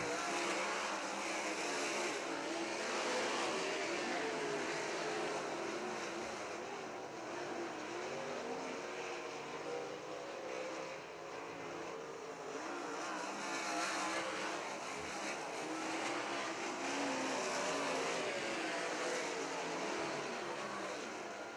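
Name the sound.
race cars racing at Crystal Motor Speedway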